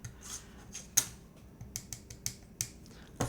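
Lubricated keyboard stabilizer key tapped repeatedly, giving faint, soft clicks at an irregular pace, close and quiet with no talking.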